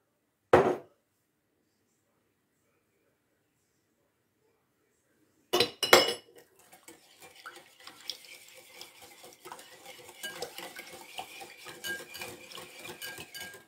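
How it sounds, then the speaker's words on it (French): Mayonnaise is spooned onto a salad in a bowl: a couple of sharp clinks of a spoon against the bowl, then soft, continuing scraping and tapping as it is stirred in. "je vais mettre une bonne cuillère de mayo"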